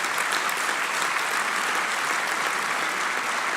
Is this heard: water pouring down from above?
no